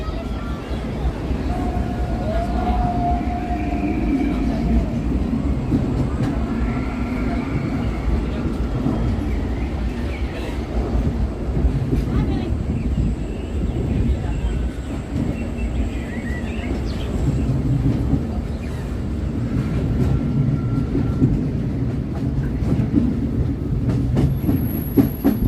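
Big Thunder Mountain mining train ride at Disneyland, a steady loud rumble of the coaster train with clattering wheels on track, continuing the whole time amid faint crowd voices.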